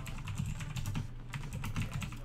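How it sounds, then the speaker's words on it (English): Typing on a computer keyboard, a quick steady run of light clicky keystrokes, close and clear, with no talking. "If I type in right now, Microsoft or Windows 10"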